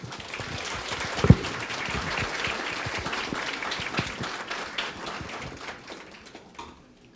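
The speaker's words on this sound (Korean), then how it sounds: "여러분 큰 박수로 맞이해 주시기 바랍니다" An audience at a records management workshop gives a speaker a fairly soft, somewhat distant round of applause that holds steady, then fades and dies away near the end.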